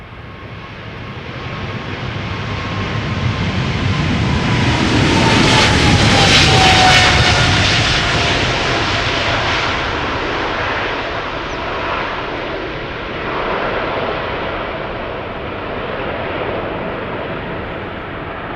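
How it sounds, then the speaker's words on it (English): A KLM Boeing 777-300 jet takes off from Schiphol's Polderbaan with a loud, sustained engine roar that builds to a peak and then slowly recedes into the distance. "KLM B791, 777-300 to Johannesburg."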